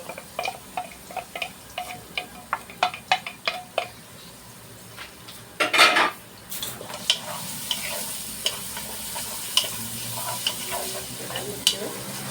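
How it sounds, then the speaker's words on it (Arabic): Carrot and onion frying in a pan are stirred, giving a steady sizzle broken by frequent scraping and clicking utensil strokes, with one louder scrape midway. No one speaks. "هنزل بقى عليها بالبصل واقلبهم بقى مع بعض"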